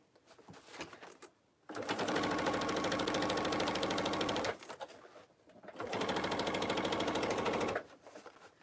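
A sewing machine stitches through thick, fabric-heavy tote bag seams in two long, steady runs of rapid mechanical chatter, separated by a pause with soft handling sounds, close and clear.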